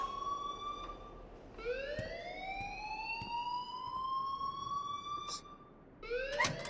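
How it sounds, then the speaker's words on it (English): Alarm ringing in the Life is Strange video game, a loud rising electronic wail that sweeps up and holds, repeating in long cycles with brief clicks in between, alone without talk. "please turn off that alarm since that's your job"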